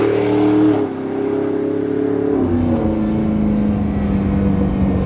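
A Land Rover Defender 110 engine revs up and pulls away, a loud, steady droning note that shifts pitch midway as the vehicle gathers speed.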